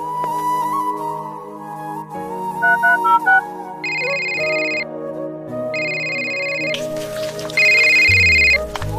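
A phone ringtone plays in a bursts of bright repeating electronic tones, sounding twice with a pause between, over a background music bed; no talking.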